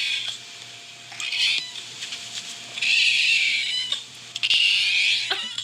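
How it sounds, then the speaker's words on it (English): A cat gives several drawn-out raspy, hoarse meows in a row, fairly close and clear, with short gaps between them and no talking. "So she doesn't meow like that all the time"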